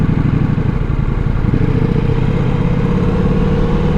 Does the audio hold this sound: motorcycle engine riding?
yes